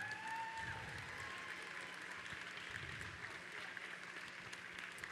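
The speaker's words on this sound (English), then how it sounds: "Let's have a round of applause for all of our teams who are competing here today." Crowd applause for competing teams at a robotics tournament on its second day, broad steady clapping across a large venue. Low rumbling voices and arena noise run beneath it, and a brief tone sounds near the start.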